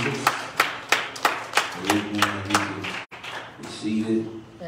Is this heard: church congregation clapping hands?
yes